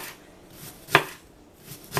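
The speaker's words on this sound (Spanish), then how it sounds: "ahora lo que voy a hacer con la media cebolla, voy a cortarla" Half an onion sliced with a knife on a cutting board, two sharp close knife strikes about a second apart with a few fainter cuts between, no talking.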